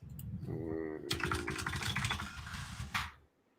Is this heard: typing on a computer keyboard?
yes